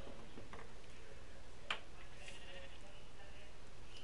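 Sheep bleating in Minecraft, a short synthesized bleat over a faint continuous ticking and background noise, fairly quiet.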